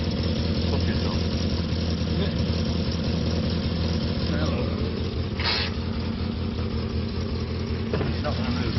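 A vehicle with a failed clutch idles steadily nearby, a constant low engine rumble running throughout while people talk over it.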